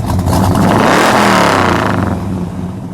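A 1970 Oldsmobile 442 W-30 V8 gives one loud, close rev. The engine climbs quickly to a roaring peak, holds it briefly and then falls back toward a rumbling idle, with no talking.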